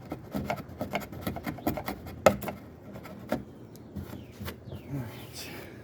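A chisel tapped with the butt of the hand peels the edge off a slab of wood, giving a run of close, rhythmic scraping and light knocking taps with one sharper knock partway through, with a voice heard faintly in the background.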